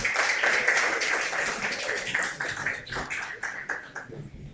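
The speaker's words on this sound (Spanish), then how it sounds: "Un aplauso para ellos, por favor." Audience applause in a university hall, many hands clapping in an irregular patter that starts strong and thins toward the end, moderately loud and heard without talk.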